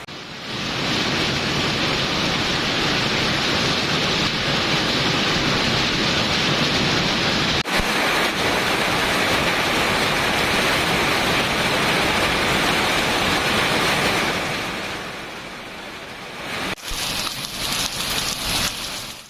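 Sudden heavy summer rain in Viluppuram, Tamil Nadu, pouring down as a dense, loud, steady hiss. Abrupt cuts break it up, and it eases slightly toward the end. No voices.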